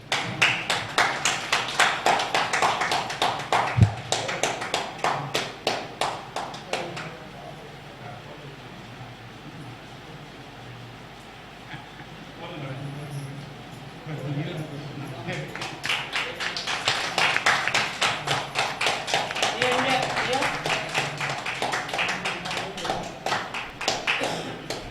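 Audience at a Tamil astrology and numerology event claps enthusiastically in sustained bursts of applause, with a quieter gap in the middle where a voice speaks over the hall.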